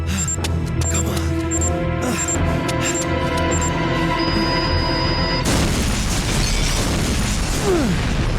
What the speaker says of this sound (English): But I still wanted to see the explosion though.